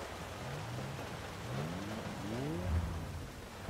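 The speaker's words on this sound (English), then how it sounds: "Once again in the rain." Rain falls steadily in the racing game Forza Horizon 5, a constant hiss layered with a Datsun's engine revving and rising underneath.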